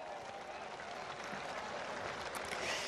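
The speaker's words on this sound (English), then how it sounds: "let's give them all a round of applause" Steady applause from an audience at the closing ceremony of the 2023 hockey world cup final in Odisha, a continuous even patter of clapping at moderate distance with no talking.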